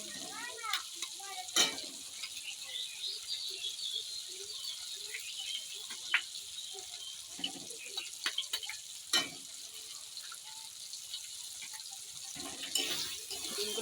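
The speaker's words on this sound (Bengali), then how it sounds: "ডিমগুলো দিয়ে ভালো করে ভেজে নিতে হবে কিন্তু" Eggs sizzle steadily in a pan over already-fried tomato, onion, chilli and ginger, with a constant hiss broken by several sharp stirring scrapes and clatters; no voices.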